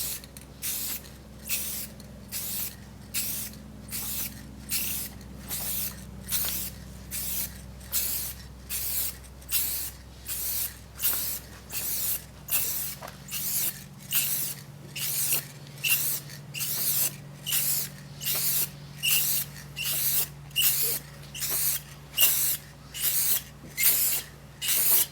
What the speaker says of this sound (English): I definitely know that I sprayed a couple parts way too much